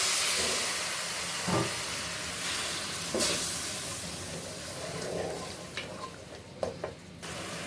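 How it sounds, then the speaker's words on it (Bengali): Turmeric and chili spice masala fries in oil for a Bengali fish curry, giving a steady close sizzle with occasional stirring clinks and scrapes throughout. "দেখো মশলাটা সুন্দর করে কষিয়ে নিচ্ছি"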